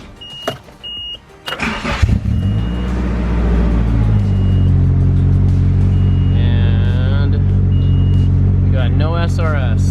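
A Nissan 240SX S14 engine cranks briefly, catches, and settles into a steady, loud idle close by, with faint voices over it toward the end.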